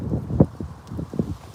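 Gusty outdoor wind buffets the microphone, low rumbling bursts that rise and fall over a short stretch, loud and close with soft rustling, and no clear speech.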